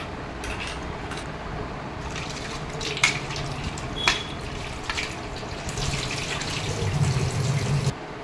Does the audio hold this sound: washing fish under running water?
yes